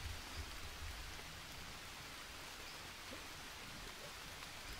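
Steady rain falling in the jungle survival game Green Hell, a soft, even hiss of drops with no talk and no break in the wash of sound.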